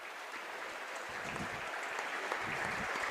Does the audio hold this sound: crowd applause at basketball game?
yes